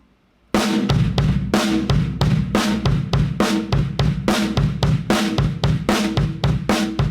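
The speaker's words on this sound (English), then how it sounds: "Starting on my snare drum." A snare drum plays steady rapid triplet strokes in a driving repeated pattern, loud and close, starting abruptly after a brief silence.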